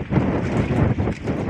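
Strong wind buffets the microphone outdoors on a fishing trip, a steady low roaring rumble with gusty surges throughout, loud and close with no voices.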